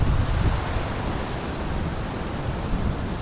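Wind blowing across a beach on a sunny day, a dense continuous roar of gusts and breaking surf close to the microphone, with no voices.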